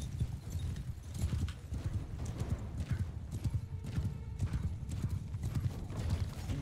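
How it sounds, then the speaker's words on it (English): Horses gallop in Mount & Blade 2 Bannerlord, a continuous rapid drumming of many hooves with a faint whinny, steady and fairly close throughout, with no speech over it. "They have horses as well."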